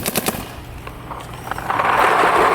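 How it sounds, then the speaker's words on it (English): Dye DSR and Dye M3+ paintball markers firing Valken Reserve and Valken Fate paintballs outdoors, a loud rapid string of sharp pops in quick bursts, ending in a dense, sustained volley. "we're shooting Valken Reserve and Valken Fate"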